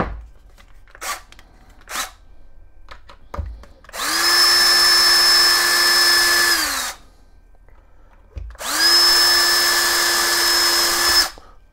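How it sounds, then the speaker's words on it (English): A power drill with a 1/8 inch (about 3 mm) bit whirs loudly twice, each run lasting a few seconds, separated by quiet moments with light handling clicks. "let's just drill right now."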